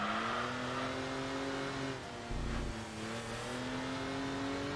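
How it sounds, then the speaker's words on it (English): Upgraded Toyota Supra engine in the racing game Enthusia Professional Racing, revving steadily with a strong, raspy harmonic drone that dips briefly mid-way, then climbs again. "you can hear as well with the upgraded engine. It definitely sounds very aggressive, very nice."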